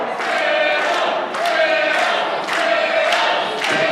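A crowd at an IPW heavyweight wrestling match in Des Moines cheers and chants for Sparrow in rhythmic swells, loud and roomy, rising and falling in repeated bursts.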